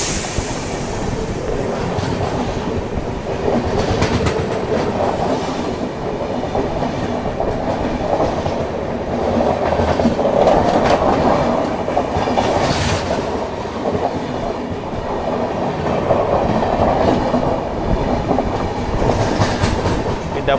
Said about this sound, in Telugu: డబల్ డెక్కర్ రన్ బాగుంటుందండి బాబు, రన్ మాత్రం చాలా బాగుంటుంది.